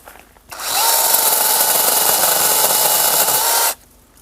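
A Procraft PKA44 cordless mini chainsaw runs steadily for about three seconds, a loud, close, even electric whine that starts and stops abruptly, with no one speaking.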